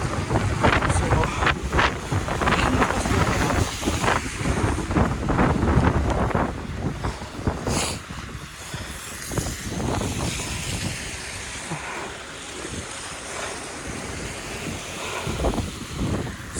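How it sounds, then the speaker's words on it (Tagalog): Strong wind during a snowstorm buffeting a microphone outdoors, heavy rumbling gusts that ease off partway through, with a person speaking briefly over the roar. "Ang lakas ng hangin."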